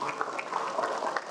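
Audience applause at a university yudisium ceremony, a steady, moderately loud patter of many hands clapping together with no pauses.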